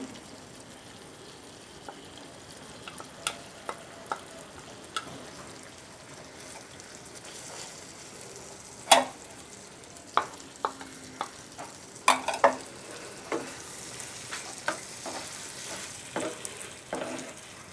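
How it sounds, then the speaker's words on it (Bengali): Pre-fried potatoes sautéing with rohu fish head in a pan, a soft continuous sizzle broken by repeated scraping and clinking stirs, some sharp and close, with no talk. "আলুগুলো দিয়ে আমি আর একটুখানি কষায় নিব"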